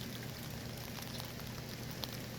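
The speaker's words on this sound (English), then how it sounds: "I don't think the rain is gonna last long" Light rain falls in a Georgia vegetable garden among okra plants, a faint, even patter and hiss that stays steady throughout with no talking.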